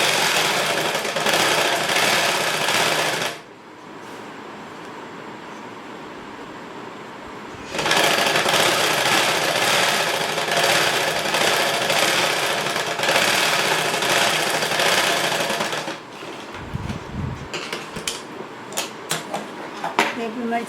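A sewing machine stitches a lining blouse in long loud continuous runs, pausing between bursts, with a few knocks and handling sounds near the end.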